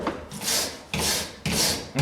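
A coarse grinding disc is being worked across a wooden hammer head in repeated rasping strokes, about four back-and-forth passes, close and moderately loud with no talking.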